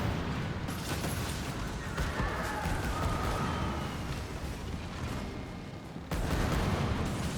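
Ship cannons fire in a video game, a dense run of booming shots and rumbling blasts, loud and sustained, with a sharp burst near the end.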